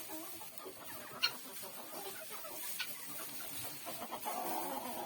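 Several small bantam chickens cluck and chatter nearby, a busy, low-level murmur of soft clucks with an occasional sharper call.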